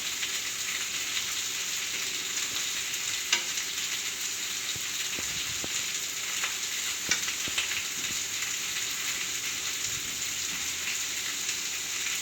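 Pork tenderloin sizzles steadily in a hot pan, a loud, continuous dense frying hiss with occasional small pops and clicks, close up and without talk.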